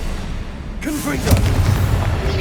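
A Confringo blasting curse explodes during Hogwarts Legacy gameplay on PS5: one loud, sudden boom erupts partway through over a low rumbling game backdrop, then a sustained crackling, roaring tail follows.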